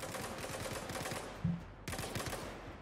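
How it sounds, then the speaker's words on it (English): A dense, rapid rattle of gunfire from a guard in Star Citizen at Grim Hex, steady and moderately loud, with a short break just before the shooting resumes. "Sounds like gunfire."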